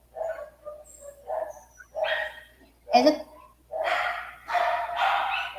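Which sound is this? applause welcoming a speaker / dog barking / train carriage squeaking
dog barking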